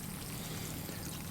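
Water runs steadily from a tree irrigation system outdoors, a continuous pouring, trickling flow heard close and alone without any talk.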